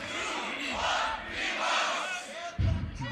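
A crowd at a beatbox showcase battle shouting together in a loud, reverberant roar, building up, then a sharp low burst near the end.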